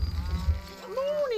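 A single cow in the medieval castle-building game Stronghold: Definitive Edition lets out a low, drawn-out moo that rises and falls, heard close and alone over low ambient rumble.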